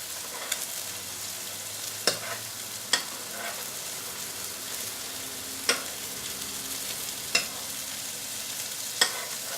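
A steak sizzles and spits steadily in a pan while butter is spooned over it, with sharp clicking taps of the basting spoon against the pan every second or two.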